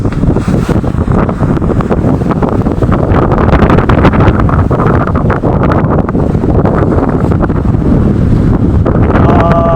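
Strong amihan northeast monsoon wind buffets the microphone at sea, a loud constant roaring rush with heavy gusting and no clear voices.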